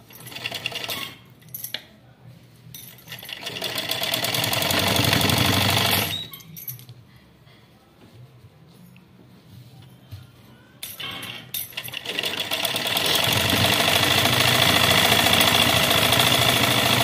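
Sewing machine stitching along a blouse border, running in two long loud bursts with a quieter pause between, a steady whirring hum close by.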